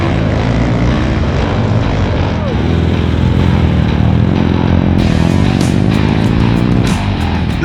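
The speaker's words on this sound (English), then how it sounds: "The bike's running better." Vintage Harley motorcycle in a desert race, its engine droning loud and steady with a rough, buzzing roar that swells slightly midway, with wind noise over it.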